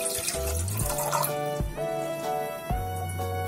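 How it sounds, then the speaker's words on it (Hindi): Water pours from a tap into a saucepan on a gas stove, two cups for a sweet chutney, in a steady splashing stream with repeated bubbly gurgles as the pot fills. "सबसे पहले 2 कप पानी डाल रही हूँ।"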